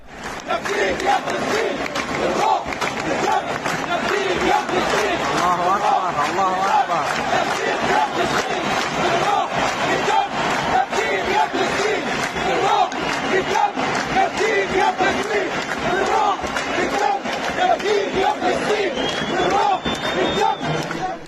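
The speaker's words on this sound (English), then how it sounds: "crowds sang the words, "With spirit and blood, we will redeem you, O Palestine."" A large football crowd at the Qatar World Cup chants together in a loud, continuous mass of voices, a rhythmic roar sustained throughout with no pause or break.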